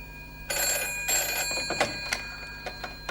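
A telephone bell rings in a home in a 1970s British sitcom, two loud bursts of trilling rings with a shorter fainter one after, standing alone with no speech.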